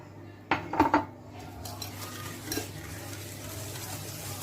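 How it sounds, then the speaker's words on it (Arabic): Eggs and oil are whisked together in a bowl for a layered cake, starting with a few quick loud clinks of utensil on bowl, then settling into softer, steady stirring. "وبقلب لحد ما الزيت يدخل كويس مع البيض."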